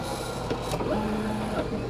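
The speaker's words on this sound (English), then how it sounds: "And there she goes to printing." A 3D printer begins a print, its stepper motors giving a short whirring, tonal hum with small pitch shifts as the head moves, fairly quiet and heard alone.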